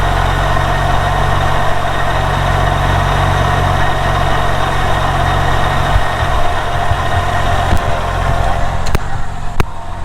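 A Porsche 996 Turbo engine idling after an idler pulley repair, a steady close, loud rumble with a constant even drone and a few faint clicks near the end, no voices.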